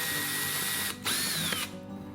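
A power drill with a 1/2-inch bit whines at high speed, stops briefly, then revs again in short bursts, close up and loud, drilling a fermenter.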